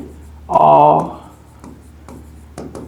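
Chalk writing on a classroom board produces a few brief, dry taps and scratches in a short sequence, with a person talking briefly over the start.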